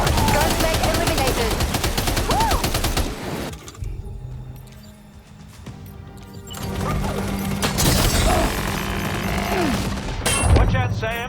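Rapid bursts of gunfire in Death Stranding 2, loud clattering shots at the start and again later, mixed with game sound effects and voices.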